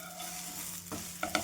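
A vegetable breakfast snack shallow-frying in oil sizzles steadily up close, broken by a few short clinks of a spatula or stirring near the end.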